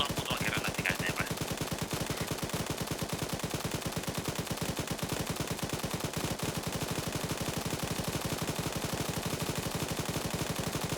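Sustained automatic machine-gun fire rattles in a fast, unbroken stream of shots throughout, loud and steady, during a firefight in the ArmA military video game.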